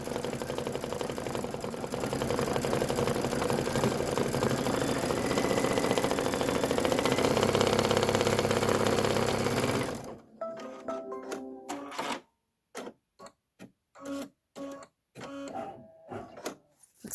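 An embroidery machine stitches the Pie Candy Detail Stitch on a bench pillow, a steady mechanical whir with rhythmic needle tapping for about ten seconds, then halting into short, intermittent bursts.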